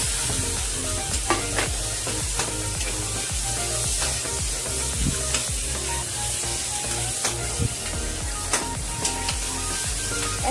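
Onions fry in a hot pan with a constant crackling sizzle, punctuated by sharp clatters and scrapes of a utensil stirring them nearby.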